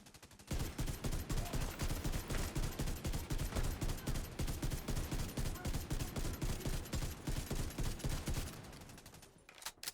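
The Ravenous exotic rifle in The Division 2 fires in long rapid bursts, a dense rhythmic train of loud, close shots running for about eight seconds before trailing off into a few scattered shots.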